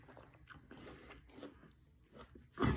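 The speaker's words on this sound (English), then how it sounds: "I'm gonna chew this apple and I'm gonna get back to y'all." A person bites into and chews a crisp apple close up, giving several wet crunches and mastication sounds with a louder bite at the end, with no talking.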